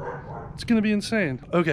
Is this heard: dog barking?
yes